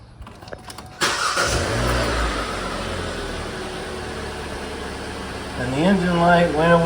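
A 2017 Hyundai Elantra with freshly changed spark plugs cranks and fires at about one second, then settles into a steady idle, with a brief rise in engine note near the end; faint talk is audible.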